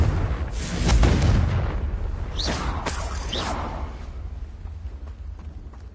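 Confringo blasting spell from Hogwarts Legacy: a loud, close explosive boom with a rumbling low body, followed by whooshing bursts and sharp cracks that fade into a lingering roar.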